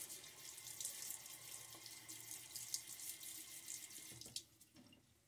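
Tap water runs steadily from a faucet into a sink while a face is wetted before a shave, a close, continuous hiss with small splashes that thins out near the end.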